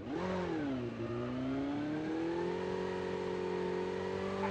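A motorbike engine revs in the Call of Duty video game, a steady mid-pitched drone that swells and climbs in pitch over several seconds, with no voices over it.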